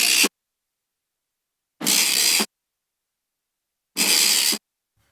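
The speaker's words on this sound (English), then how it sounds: "I think it's like a brush, a metal brush on something." Metal brush scraped across a surface, isolated from a percussion track: three separate harsh, hissy scraping strokes, each under a second long, with silence between them, close and fairly loud.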